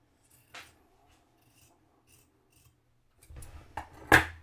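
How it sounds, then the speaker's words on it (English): Scissors trim fabric for a junk journal page in a quiet room: a soft snip early on, then a cluster of close rustling cuts near the end, ending in one sharper, louder snip. "I'm going to trim the fabric behind a little bit"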